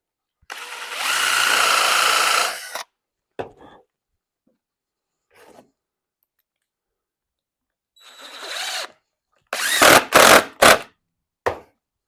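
A power drill drives screws into a wooden tenon-cutting jig, giving one sustained whirring burst followed later by several short, loud bursts with quiet gaps between, close by and with no talk.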